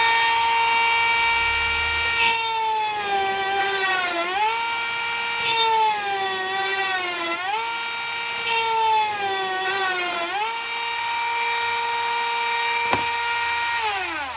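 A Ryobi R18TR-0 rotary tool runs at full power cutting 15mm MDF, a high whining motor tone that dips and recovers repeatedly as the bit bites into the board, loud and close with no talk.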